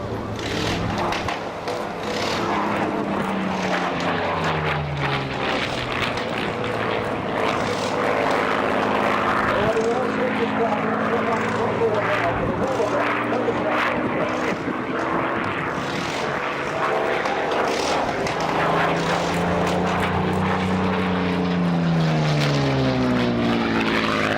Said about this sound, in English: coming in from the left, we have MH434, one of the most famous Spitfires in the world